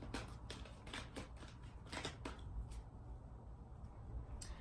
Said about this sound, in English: And this is the angels and gods and goddesses deck. Let's shuffle like this for now.